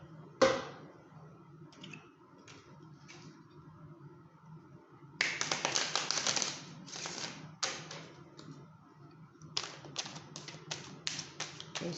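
Tarot-style reading cards shuffled by hand: quick papery riffling bursts and taps come close and clear, in several clustered rounds separated by brief pauses, with no talk.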